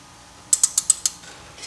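A ratcheting wrench tightens a bolt on the wheel hub of a Mercedes W212 E63 AMG during a wheel bearing replacement. Five quick, crisp ratchet clicks come close up in an even rhythm, then stop.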